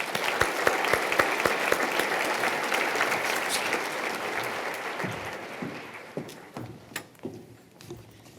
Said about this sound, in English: Please join me in another round of applause for this first group of nominees.